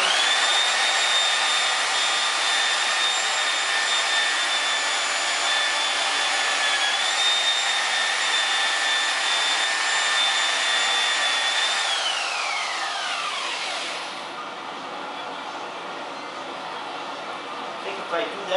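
A power polisher buffs sand scratches out of an aluminum wheel with a loud, steady whine that drops in pitch near the end as the machine slows.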